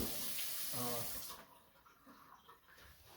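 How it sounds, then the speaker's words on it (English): A newly installed kitchen faucet runs water into the sink with a steady hiss that cuts off abruptly partway through, leaving quiet room sound. "water on, both directions, everything works"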